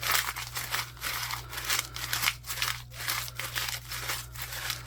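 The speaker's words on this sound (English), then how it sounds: "You're just gonna take your paper and we're just gonna crumple it." Paper crackles and crinkles in repeated bursts as it is scrunched up close by, a dry rustling rhythm with brief pauses, no voices.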